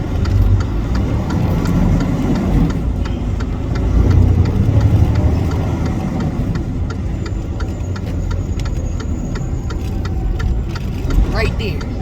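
A car engine runs steadily at close range as the vehicle turns a tight corner on a narrow city street, a continuous mid-to-low rumble with a slight swell partway through and faint background noise.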